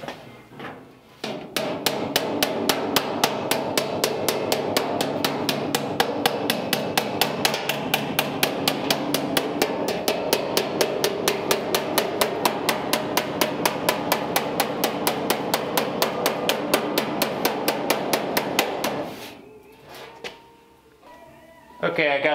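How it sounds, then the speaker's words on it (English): Rapid, steady hammer taps on the thin sheet-metal skin of a Ford Model A door, dozens of quick ringing strikes in an even rhythm, close and loud, stopping near the end. "I need to just take the hammer and tap that in a little bit"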